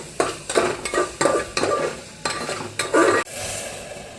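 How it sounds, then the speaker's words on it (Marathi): Spices sauté in a pan for khichdi while a spoon scrapes and stirs them, a run of about half a dozen rhythmic stirring strokes over a steady sizzle, ending in a brighter hiss. "त्याच्यात टाकून घ्यायचं, परतून घ्यायचं मस्त."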